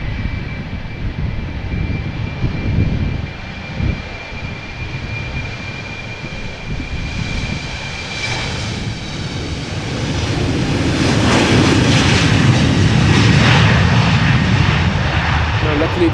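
An ETF Airways airliner departs Amsterdam Schiphol for Lanzarote, its engine roar building and growing louder toward the end, with someone talking over the first half.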